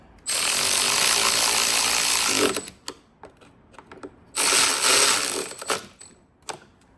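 A socket ratchet wrench drives bolts home on a Honda GCV170 engine carburetor, giving two sustained bursts of rapid close clicking separated by a few isolated ticks and short ratchet strokes.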